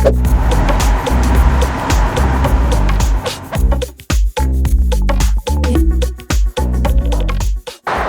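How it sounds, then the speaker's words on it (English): A car cruises along a desert highway in the Sahara in Egypt, with steady loud road and wind roar up close that turns choppy and buffeting in the second half. "we are driving on this highway"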